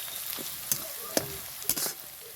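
Minced onion and garlic frying together in a pan, a soft steady sizzle with a few sharp clicks and scrapes of stirring breaking through now and then.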